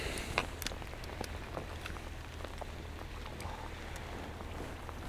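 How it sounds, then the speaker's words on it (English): Heavy rain patters steadily onto the water at a marina, a faint, dense hiss of scattered drops with no voices. "Say that's raining heavier now."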